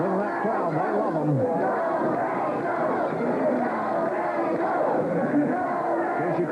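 A 1978 California pro wrestling arena crowd roars and cheers continuously, a dense, loud wall of voices with shouts rising and falling throughout.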